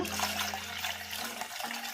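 About a jug of water pours steadily into a buttermilk curry mixture for about two seconds, a close splashing gush that thins out near the end, with no voices.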